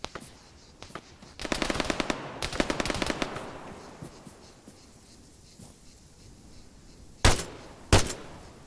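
Machine gun fire in the video game Arma 3: two rapid bursts of shots in the first few seconds, then two louder, sharp single gunshots near the end, over a low background rumble.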